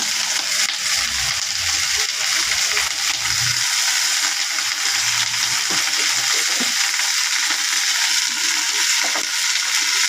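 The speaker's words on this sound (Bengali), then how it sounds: "পেঁয়াজ, লঙ্কা আর রসুন এর মধ্যে দিয়ে নিচ্ছি।" Onion, chili and garlic frying in hot oil in an iron wok, a steady broadband sizzle that holds for the whole stretch with a few soft stirring knocks.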